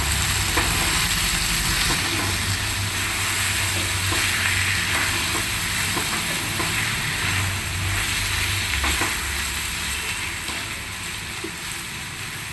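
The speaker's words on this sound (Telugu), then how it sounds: "ఒక్కసారి కలపాలండి." Elephant foot yam curry (chaamagadda pulusu) with chili powder added to the tempering fries in a pan as it is stirred, giving a loud, steady close-up sizzle with soft scraping strokes throughout.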